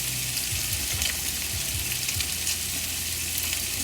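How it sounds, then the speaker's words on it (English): Onions hitting a hot pan for a breakfast casserole produce a loud, continuous sizzle close up, with faint scraping and stirring bumps in the first half and no talking. "So we're going to add in the onions."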